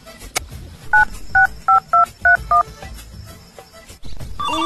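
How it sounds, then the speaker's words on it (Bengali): Six short electronic telephone keypad tones beep in quick, steady succession over low room noise, followed by a brief pause and another tone. "ফোন লাগা। ফোন করছি।"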